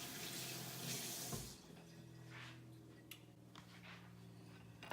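A kitchen tap runs briefly while hands are wetted before rolling chicken nugget mixture. A soft rush of water is heard at the start, then it stops, leaving a faint, quiet room.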